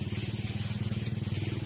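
A motorcycle engine drones loudly and steadily nearby on an outdoor walking route, its low, rapidly pulsing hum continuing throughout without any voices.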